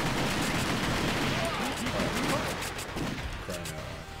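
Rapid gunshots fire at zombies in the arcade game The House of the Dead 2, loud bursts layered over dense game noise with a voice speaking briefly.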